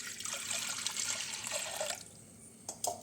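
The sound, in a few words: water poured into pressure cooker with lentils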